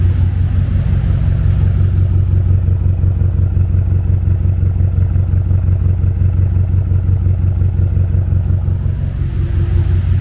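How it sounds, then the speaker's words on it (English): A 1200hp BMW X6M engine idling up close, a loud, steady, deep rumble with a fast even pulse that holds unchanged throughout, with no voices. "Listen to this idle."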